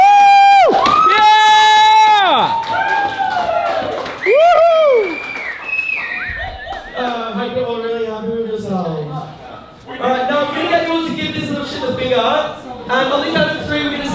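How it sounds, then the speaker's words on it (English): Diners at a rude-themed restaurant table, Karen's Diner, clap and cheer loudly, with shouting voices and whoops throughout and talk over the noise. "Stop clapping, man."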